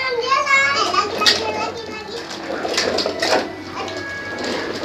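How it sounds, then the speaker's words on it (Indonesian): Children shout and chatter noisily nearby, high excited voices overlapping in bursts over a low mechanical hum. "sorry nih banyak anak kecil jadi agak berisik ya."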